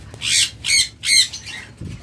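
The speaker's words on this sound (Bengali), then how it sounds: "এটা কিন্তু নর্মাল পাখি না, রেইনবো পাখি" A pet rainbow bird gives three loud, harsh squawks in quick succession at close range, then a faint rustle.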